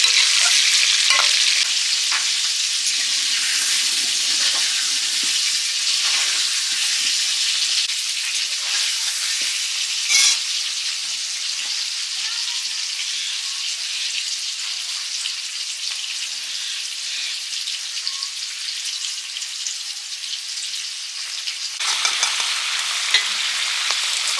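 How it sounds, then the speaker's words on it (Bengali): New potatoes fry in a pan with a loud, continuous sizzle and hiss, broken now and then by stirring scrapes, close and steady throughout. "আলু ভাজার সেন্টটা দারুণ লাগে যদি হয় নতুন আলু এই যে ভেজে নিচ্ছি"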